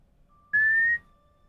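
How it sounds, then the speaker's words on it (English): A single short, clear whistle rises slightly in pitch and lasts about half a second. It is loud and close against a quiet background, and no one speaks over it. "I whistled really good."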